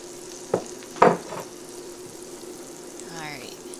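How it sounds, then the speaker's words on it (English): Cabbage pancake batter is poured and scraped from a bowl into a hot pan, with two sharp scraping hits followed by a soft, steady sizzle close by. "I'm pouring that in and I'm like scraping all the batter mixture out of my bowl"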